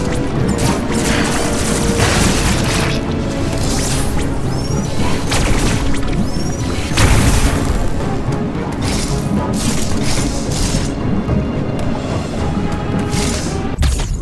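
Missile explosions in the video game Metroid Dread: a steady run of loud crashing impacts and booms with metallic clanks, filling the whole stretch without speech.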